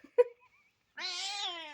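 A house cat meowing up close: a short chirp-like sound, then a longer drawn-out meow with a rising and falling pitch, alone in otherwise quiet surroundings.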